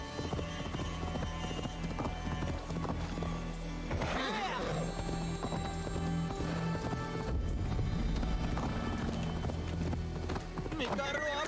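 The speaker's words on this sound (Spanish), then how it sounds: "el caballo tiene un montón de resistencia, eso sí que es cierto, me puedo pasar con el sprint todo el camino" Galloping horse in Assassin's Creed Valhalla, a steady rapid clip-clop of hooves running continuously through the scene, mixed with game music and ambient effects at a moderate level.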